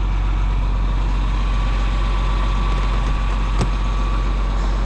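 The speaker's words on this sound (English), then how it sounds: "Tractor's been running so that the AC is nice and cold." A farm tractor engine idles steadily, kept running to cool the cab air conditioning on a warm day at corn planting, a constant low heavy drone close by with a single brief click partway through, no talk.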